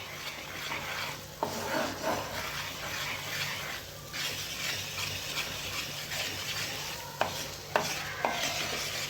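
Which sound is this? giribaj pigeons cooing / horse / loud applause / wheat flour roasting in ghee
wheat flour roasting in ghee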